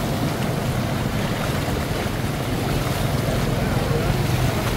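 Motorbikes push through deep floodwater covering a road at Trung Lương, Mỹ Tho, with a steady, continuous rush of churning water and low engine rumble up close, no pauses throughout.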